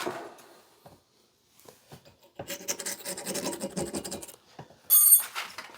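Someone scrapes an antique axe head, producing intermittent dry rasping and scratching strokes, quiet at first and then denser, with a sharper louder scrape near the end.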